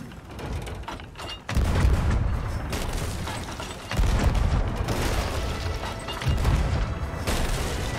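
Cannon fire in the Sea of Thieves pirate ship game: heavy booms land at intervals over a constant rumbling wash of sea and ship noise, each blast followed by a dense roar.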